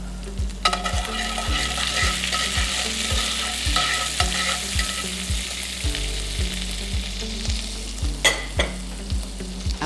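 Garlic and rosemary frying in a pan give a steady, close sizzle throughout, with a regular low thumping beat running underneath.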